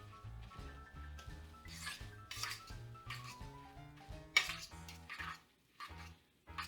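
A fork scrapes and taps against a bowl while beaten egg is mixed into a zucchini cake batter, a close rhythmic rubbing with clinks, over faint background music and no talk.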